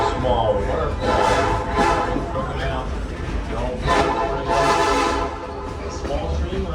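A Lehigh Gorge Scenic Railway train rides along the tracks with a continuous loud rumble, and two swelling tonal blasts rise above it.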